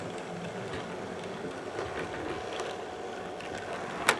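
A Hornby model steam locomotive rolls slowly up onto its coaches on a layout, a steady low mechanical rumble and hum with faint clicks, ending in a sharp coupling knock, with no talking.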